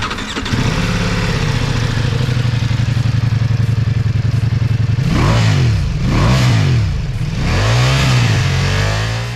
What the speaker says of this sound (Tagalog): sa lahat ng mga motor na fini-feature natin, kailangan marinig natin kung anong tunog